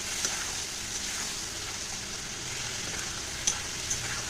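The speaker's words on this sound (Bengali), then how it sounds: "তো এবার মশলাটা আস্তে আস্তে নাড়িয়ে আমি কষিয়ে নেব।" Spice paste for rohu fish curry being stirred and fried in a pan, a steady, soft sizzle with occasional spoon scrapes and clicks, close and without talk.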